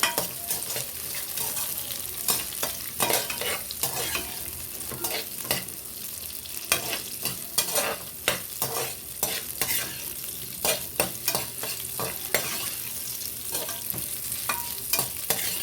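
Onions sizzle in a hot pan for a chicken gravy, a steady frying hiss broken by frequent scraping clicks as the spatula stirs them, loud and close with no voice.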